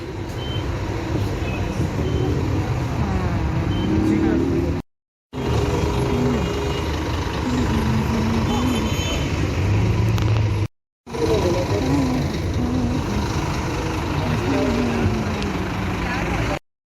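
Inside a bus on the road after an accident: a continuous engine and road rumble fills the cabin while people talk over it, broken by two short gaps of silence.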